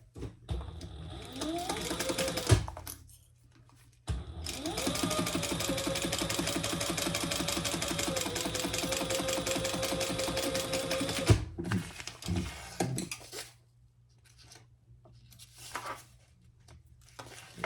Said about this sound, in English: I'm going to sew it from this side just so I'm just outside of that previous stitch.